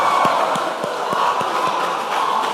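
Applause from the audience at a junior high school quiz grand finale, steady clapping and crowd noise with distinct claps standing out, sustained at moderate loudness for a few seconds.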